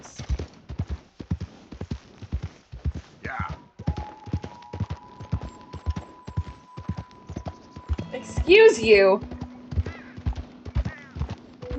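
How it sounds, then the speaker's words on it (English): A horse's hooves clip-clop steadily and rhythmically in the video game Red Dead Redemption 2, with a neigh partway through and a man's brief speech over the hoofbeats. "I am extremely bad at driving a horse."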